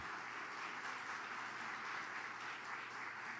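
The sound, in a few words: congregation applauding in church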